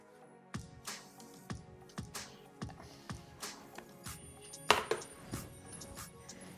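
Regular knife strikes on a cutting board, about one every half second, crisp and close with no voices, chopping an onion for a mushroom dish.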